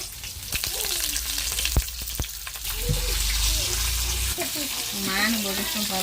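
Whole spices, onions and green chillies frying in oil, a close, loud crackling sizzle that swells midway, with a voice talking over it.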